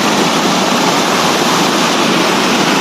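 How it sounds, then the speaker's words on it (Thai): Cool water runs down in a steady, continuous rush beside a cornfield in the northern Laos countryside, loud and close, with no voices over it. "มีสายน้ำไหลลงมาแบบเย็นๆ"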